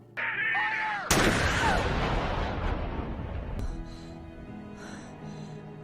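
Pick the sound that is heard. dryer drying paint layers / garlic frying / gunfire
gunfire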